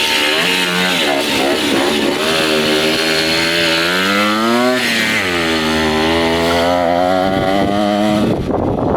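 A 1969 Morini 50cc two-stroke Italian mini bike engine runs loud and close, buzzing and revving up and down with wavering pitch throughout.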